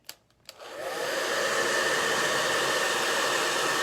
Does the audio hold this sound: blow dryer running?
yes